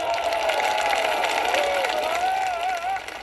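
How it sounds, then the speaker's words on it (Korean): A crowd at a presidential inauguration speech in Gwanghwamun, Seoul, applauds in a steady, dense wash of clapping and cheering that fills the whole stretch, with a voice talking over it. "계속 박수가 터졌습니다"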